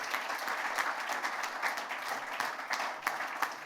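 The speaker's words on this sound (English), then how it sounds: "It's time for an applause, please." Audience applause at a conference talk on engines: many people clapping in a continuous, slightly uneven roar, with a few sharper individual claps standing out, and no voices over it.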